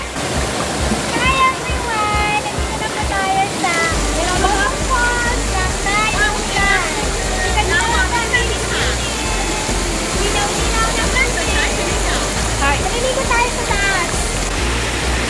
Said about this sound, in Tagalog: Ang ating napakagandang bottom falls.